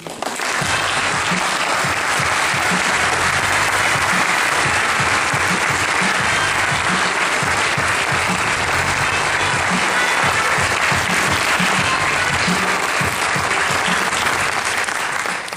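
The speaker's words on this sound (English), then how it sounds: "So please give a warm round of applause to this brave team." An audience applauds at a student award ceremony in San Francisco, with sustained, loud, dense clapping from a large crowd holding evenly for about fifteen seconds without speech.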